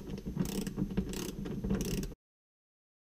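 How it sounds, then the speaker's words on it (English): A torque wrench ratchets steadily while tightening a retractable seat belt bolt in a VW Westfalia bus, a close run of quick metallic clicks lasting about two seconds before cutting to silence. "We have our torque wrench set to 45. And it's going to click."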